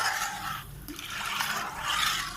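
Water poured into kadhi being cooked in ghee as a temple offering, a steady broadband pouring and splashing that swells and eases across the span.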